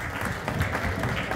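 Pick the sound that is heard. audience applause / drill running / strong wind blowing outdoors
audience applause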